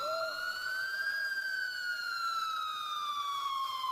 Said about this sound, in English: until I finally heard sirens in the distance.